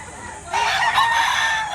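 A rooster at a Batangas poultry market gives a single loud, close crow that rises then holds, cutting in after a brief quieter moment of background noise.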